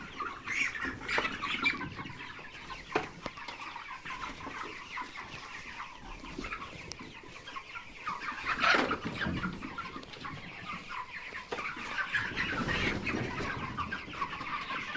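Thirty-day-old broiler chickens cluck and murmur in a barn, with scattered louder squawks and calls rising over a soft, busy background.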